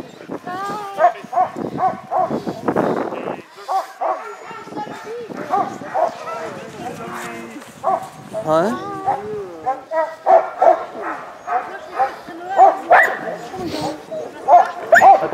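Sled dogs in a team in Quebec bark and yip in bursts close by, with excited yelps and whimpers, while people talk over the din.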